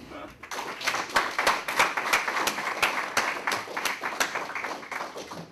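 An audience at an economics society meeting in Queensland applauds after a lecture, with moderately loud, steady clapping from a modest crowd that swells and then tapers off.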